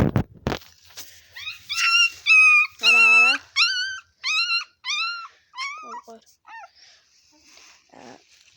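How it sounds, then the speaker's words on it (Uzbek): Two-week-old puppies, eyes just opened, whimper and yip in a rapid series of high, wavering cries, loud and close, tapering to fainter whines near the end, after a brief knock at the start. "2 haftalik kuchuk."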